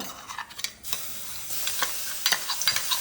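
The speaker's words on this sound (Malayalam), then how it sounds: "ഇതാ ചട്ടി ചൂടായി ഇനി ഇതിലേക്ക് വെളിച്ചെണ്ണ ഒഴിച്ചു വെച്ചു" Coconut oil sizzles in a hot clay pot as clams are cooked, with a crackling hiss broken by scraping stirs and small pops, close and loud with no talking.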